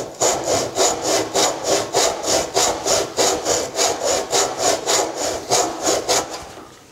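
A crosscut-filed backsaw cuts a dado across a wooden board along a struck gauge line, giving steady, even push strokes of rasping wood noise, about three per second, close and loud with no talking.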